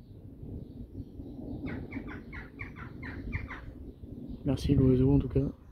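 During a violent thunderstorm a bird gives a quick series of about eight repeated chirping notes against a steady low rumble of rain and wind, followed by a louder, brief voice near the end.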